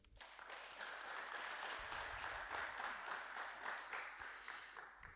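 A church congregation applauds in a sustained, dense wash of clapping that holds steady for several seconds with a fairly even, continuous texture.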